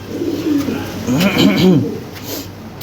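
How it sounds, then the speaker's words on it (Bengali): Lahori Sirazi fancy pigeons, a pair of male and female birds, give soft low rolling coos in short repeated phrases, fairly close, with a faint background hum. "দেখেন কয়েক পেয়ার কবুতর আছে খুব ভালো ভালো কবুতর"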